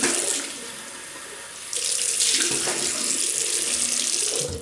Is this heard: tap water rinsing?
yes